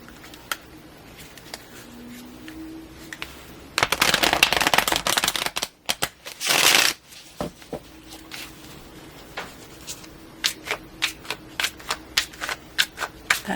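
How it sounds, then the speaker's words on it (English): Brotherhood of Light tarot deck riffled and shuffled by hand, a dense flurry of card snaps lasting a few seconds, then a shorter burst, followed by scattered soft taps and flicks of cards being laid down. "I'm going to use this Brotherhood of Light deck, and I'm going to pull 5 cards"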